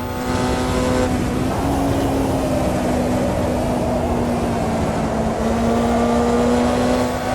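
Formula Junior race car engine in Automobilista 2, a loud steady drone holding a constant pitch on a lap, with a slight shift after the first second and no talk over it.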